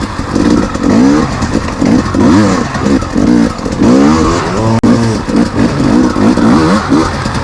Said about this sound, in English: You can hear how, like, even at these low speeds, the bike can just accelerate so nice still